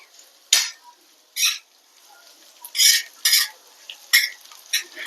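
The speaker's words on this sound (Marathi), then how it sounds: "त्याचा वास सुटेपर्यंत ह्याला छान असं भाजून घ्यायचं आहे आपल्याला" Repeated scraping and stirring strokes as masala is dry-roasted in a pan, about eight short bursts at an uneven pace, close by, with a faint sizzle between them.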